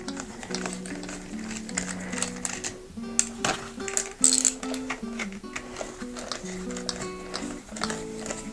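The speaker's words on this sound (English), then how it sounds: "little nut driver here, and we'll remove all of our screws." Screws are backed out of a snowshoe binding with a small nut driver. The clip is a close, busy run of quick ratcheting clicks and rattles, with some brief louder clacks partway through.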